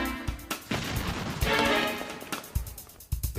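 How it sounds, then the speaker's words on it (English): A cannon fires at a test wall from a little over 200 yards away, a heavy booming shot with crashing impact and rumbling debris, loud and without talk. "The cannon is placed a little over 200 yards away"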